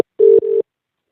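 An incoming call rings on a telephone as two short electronic tone pulses, a longer one followed by a slightly shorter one, loud and close, with silence after them.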